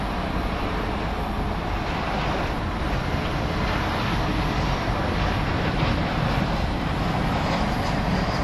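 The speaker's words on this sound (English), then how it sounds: "presently we shall see this A321 coming in from San Diego" Airbus A321 jet landing at DFW airport at night, its engines a steady, loud broadband roar throughout without a clear rise or fall, no voices over it.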